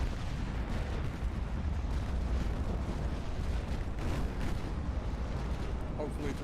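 Continuous rumbling barrage of warship secondary guns firing in Ultimate Admiral Dreadnoughts, a dense wash of booms and bursts with steady loudness, with talk mixed underneath.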